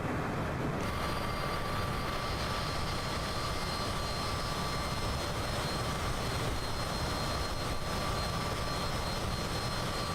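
Steady, even drone of a Cessna Citation CJ4 business jet's engines while climbing in flight in a flight simulator, a broad continuous roar that holds level throughout with no talk.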